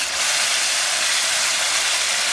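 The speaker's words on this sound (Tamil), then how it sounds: "இந்த பேஸ்ட்டையும் இதில் ஊற்றிடலாம்." Tomato paste poured into a hot pan while cooking a masala fry, giving a steady, close, bright hissing sizzle throughout, with no talk.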